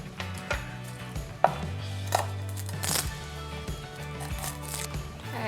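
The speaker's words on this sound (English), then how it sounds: "Now I'm going to mince 1 teaspoon of garlic." Garlic minced with a knife on a cutting board, rapid irregular chopping taps with some sharper knocks, close up over a low background hum.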